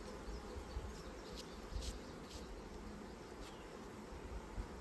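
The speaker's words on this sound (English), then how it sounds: "Some bees on the side over here." A dense, steady buzzing of many bees close by, with a few louder individual buzzes passing near now and then.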